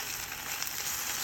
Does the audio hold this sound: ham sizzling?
yes